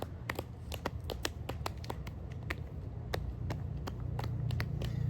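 Hands clap in a quick, uneven patter of many sharp, light slaps during an outdoor yoga flow, fairly close over a soft steady outdoor background.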